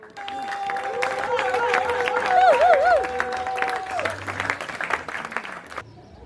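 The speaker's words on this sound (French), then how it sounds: "Est-ce que tu peux bien acclamer, s'il vous plaît?" A crowd at a civil wedding applauds steadily, with clapping, cheers and ululating voices over a wash of crowd noise, then fading near the end.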